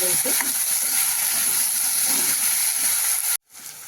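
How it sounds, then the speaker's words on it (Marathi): Eggplant pieces sautéing in an oily pan for a Marathi-style vegetable dish, giving a steady, loud hiss and sizzle throughout that cuts out abruptly near the end, then resumes more quietly. "आणि हे वांगे आपण यामध्ये टाकून घेऊ पाच मिनिट परतून"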